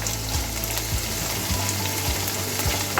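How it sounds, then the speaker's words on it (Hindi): Chicken cubes and onions fry steadily in a pan, a loud continuous sizzle with faint stirring scrapes and no talking. "अभी इसमें फ्राई करेंगे 3 से 4 मिनट के लिए"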